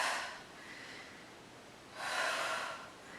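Two breathy exhales during a Pilates squat, one fading at the start and a fuller, louder one about two seconds later, each close and airy with no talking.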